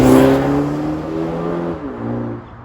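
A 2021 BMW X1 with a turbocharged four-cylinder accelerates hard, a loud engine note with rising tones through a brief shift, recorded from inside the cabin and fading slightly toward the end.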